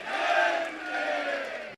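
A large crowd shouts a devotional chant in unison at a Jain religious gathering in Indore, a sustained, loud burst of massed voices lasting under two seconds before cutting off.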